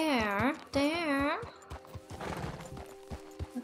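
Horse hooves clip-clop in the video game Red Dead Redemption 2, light, scattered and close. A person talks over the start, and a horse snorts or whinnies near the beginning.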